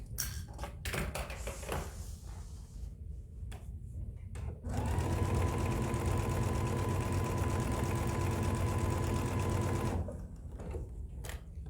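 A sewing machine stitches the corner of a tote bag in one steady, fast whirring run of about five seconds, with scattered clicks and handling noises before and after.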